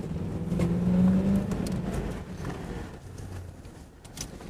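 A police car accelerates away in pursuit of a van, its engine revving and fading as it pulls off, with faint outdoor background noise.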